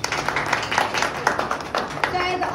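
An audience at a national theatre festival claps loudly, the applause a dense, steady wash with a few sharper claps standing out and faint voices mixed in.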